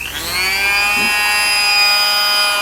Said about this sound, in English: once again with your flex shaft grinder